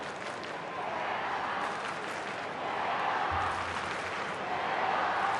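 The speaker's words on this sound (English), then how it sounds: "So the crowd again trying to urge on their St Kilda heroes" Football crowd at an AFL match between St Kilda and Geelong, a steady broad roar of many voices urging on St Kilda, sustained and fairly loud throughout with no distinct voices standing out.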